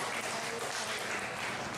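A church congregation claps together in steady, dense applause that fills the space, sustained and even, with no voices standing out.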